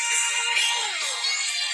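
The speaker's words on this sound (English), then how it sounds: "That's their ringtone." A bright electronic ringtone melody plays steadily, fairly loud and close, with no voices over it.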